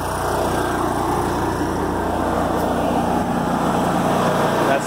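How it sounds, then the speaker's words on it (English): Engine-driven welder running steadily outdoors at a farm food plot after its water pump is shut off, a loud, constant droning hum that holds level without change. "We're going to shut that pump off so the welder can go down to just a typical idle."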